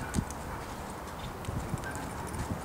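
A horse's hooves clop steadily on an arena surface during a western dressage ride, a faint, regular rhythm of soft hoofbeats under a steady background hiss with no talking.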